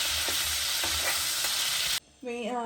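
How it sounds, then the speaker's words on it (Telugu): Dried mackerel frying in hot oil, a dense close sizzle with soft stirring knocks that cuts off abruptly, followed by a brief tonal voice-like sound at the end. "ఈ ఎండు ఫిష్ అనేది ఫ్రై చేసుకోవాలండి"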